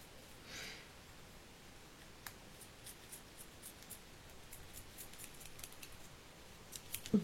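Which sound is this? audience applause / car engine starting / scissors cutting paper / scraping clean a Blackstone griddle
scissors cutting paper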